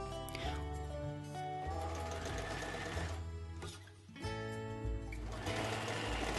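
A sewing machine stitches a seam on a self-binding blanket, its close, steady mechanical whir running continuously with a brief dip partway through.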